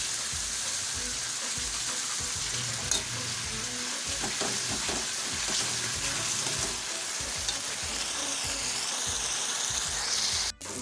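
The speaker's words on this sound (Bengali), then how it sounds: "আমরা এখন দিয়ে দিচ্ছি আর মশলাটাকে লবণ দিয়ে কষিয়ে নিচ্ছি" A spice paste with salt, cardamom and dried red chillies sizzles steadily in a hot pan for a yogurt katla fish curry, a continuous bright frying hiss with faint stirring scrapes and a clatter near the end.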